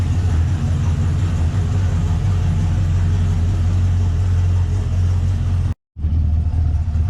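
A 6.0 LQ4 V8 fitted with Texas Speed heads and cam idles loud and close with a steady, lumpy rumble, cut by one brief moment of silence before the idle carries on.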